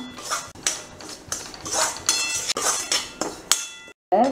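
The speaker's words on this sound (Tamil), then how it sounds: "இதில் பொடி பண்ண பாசிப்பருப்பை இதில் போட்டு நம்ம லைட்டாக அப்படியே வறுத்து எடுத்துக்கலாம்" Powdered moong dal being stirred and roasted in a metal pan for halwa, a series of loud scraping and clinking strokes of a utensil against the pan in steady rhythm, close by, without speech.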